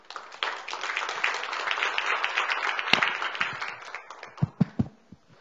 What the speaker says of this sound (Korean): 제가 나오실 때 큰 박수로 맞이하겠습니다